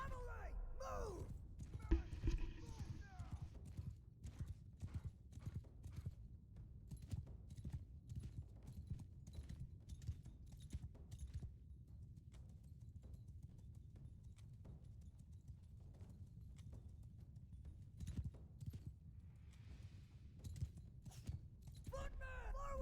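Cavalry horses move in Mount & Blade II: Bannerlord, hooves clip-clopping in a steady, fairly faint stream of beats under a voice shouting battle commands, with brief whinny-like sounds near the start and end.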